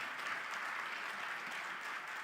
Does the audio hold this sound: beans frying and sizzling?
no